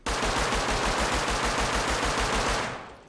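Rapid automatic gunfire in the video game Rust, a loud continuous burst of evenly spaced shots lasting nearly three seconds before fading out, up close with no talking.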